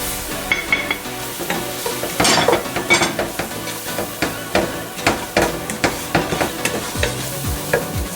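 Vegetable mix for fried rice sizzling in hot oil in a pan as it is stirred, a steady fry with repeated scraping and clinking strokes of the utensil against the pan, close up.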